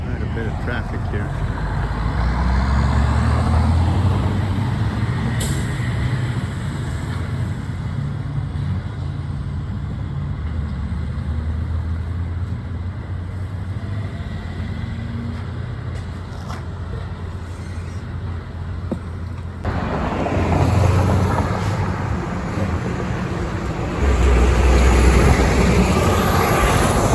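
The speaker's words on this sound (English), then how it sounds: "Quite a bit of traffic here." Road traffic rumbles steadily close by for almost half a minute, heavy trucks and cars passing with low engine drone and swelling pass-bys near the end, under intermittent talk.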